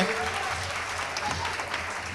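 Audience applause after a youth raas dance at a cultural program in Rajkot, a dense, steady wash of clapping from a crowd that holds evenly for the whole stretch.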